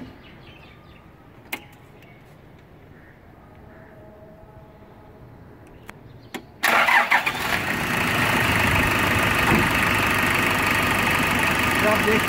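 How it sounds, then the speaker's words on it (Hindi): A modified Toyota Land Cruiser FJ40 sits quiet with faint background noise and a few clicks, then its engine cranks and catches with a sudden loud roar and settles into a strong, rough, steady idle close by. "मैं अभी स्टार्ट भी करता हूँ, इसकी साउंड भी आपको दिखाता हूँ कि इसकी साउंड क्या है।"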